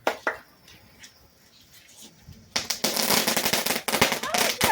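Firecrackers exploding at a São João festival, a sharp bang early then a dense, loud crackling barrage of rapid pops filling the second half, with people talking faintly between.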